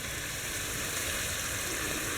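Stir-fried beef sizzles steadily in a pan, giving a dense, even crackle that holds at constant loudness with no voices over it.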